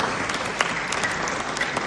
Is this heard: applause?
yes